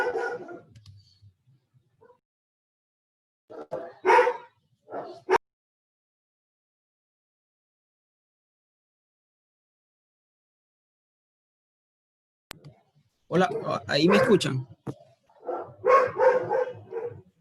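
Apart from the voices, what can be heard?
small dog barking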